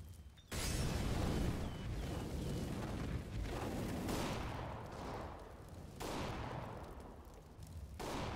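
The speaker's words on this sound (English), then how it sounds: "I am throwing a grenade!" A grenade blast in CS:GO erupts loud and close, then rumbles on amid continuing gunfire and further booming bursts, with no talk over it.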